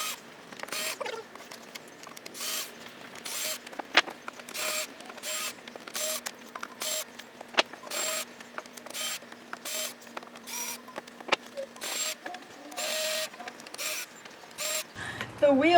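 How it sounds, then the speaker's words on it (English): Wooden slats are being unscrewed from a dog house. A screwdriver or driver makes quiet, irregular clicks and brief ratcheting bursts at close range, with a short louder clatter near the end. "The next part is unscrewing the slats to be repurposed later."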